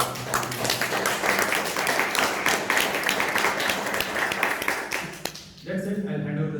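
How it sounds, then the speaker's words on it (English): Audience at a Bangalore Toastmasters meeting claps in a steady, fairly loud round of applause that runs about five seconds, then tapers off as a voice starts talking. "Maybe all give a round of applause."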